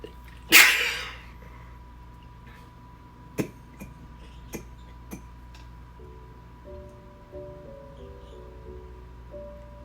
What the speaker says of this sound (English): I had a tickle and sneezing.